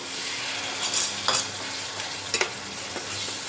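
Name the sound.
spices being sautéed in pan with a little water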